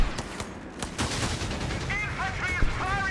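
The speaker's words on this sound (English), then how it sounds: "Grenadiers exchanging shots with the Pathfinder" Rifle fire exchanged between Grenadiers and Pathfinder infantry in Company of Heroes 3, a dense run of overlapping cracking shots and distant booms, with a caster's voice talking faintly beneath.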